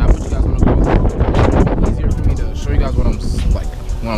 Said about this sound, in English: So, man, it's windy today.